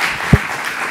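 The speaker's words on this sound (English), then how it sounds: "Let's give another round of applause for Alex." A brief burst of audience applause for Alex at an alumni talk event, dense, steady clapping from a crowd filling the short moment, with one soft thump partway through.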